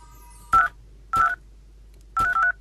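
A mobile phone number is punched in as three separate bursts of clear dialing tones, the last a quick double beep, each loud against near silence.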